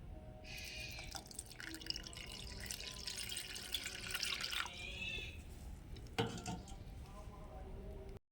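Tamarind water is strained through a sieve, a soft trickling and dripping of liquid with faint scraping and a clink partway, quiet and close with no one speaking.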